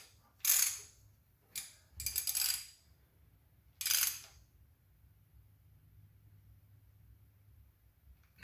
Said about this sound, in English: I'm not tightening these very tight.